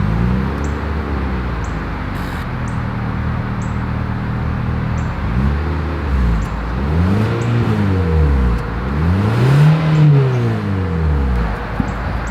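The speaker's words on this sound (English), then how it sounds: "As always, here is that exhaust clip." A 2023 Mitsubishi Outlander with a single exhaust idles steadily, then is revved several times, each rev swelling and falling back, the third climbing highest, close and loud with no talk.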